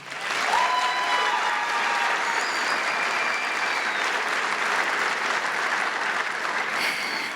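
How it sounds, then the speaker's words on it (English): Audience at a 2023 graduation ceremony for a young women's STEAM academy applauding the students, a sustained dense patter of clapping that holds steady for several seconds with a few faint calls and whistles mixed in. "Let's give our students another round of applause"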